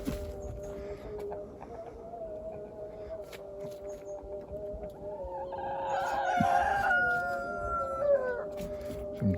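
Chickens and a rooster kept outdoors in snowy weather, with low continuous clucking and a drawn-out crow rising midway, fairly close, over steady background hum.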